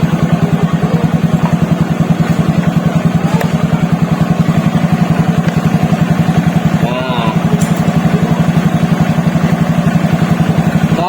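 Carbureted Honda Beat motorcycle engine idling up close, a loud, steady rapid putter with even pulses throughout and no voices.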